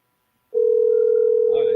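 A phone picked up to place a call, a steady continuous dial tone starting abruptly after a brief click and holding evenly, with a voice beginning to talk over it near the end.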